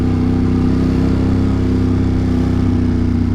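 A motorcycle cruising through New York City traffic toward downtown Brooklyn, its engine droning steadily and close with a low throbbing hum and no voices.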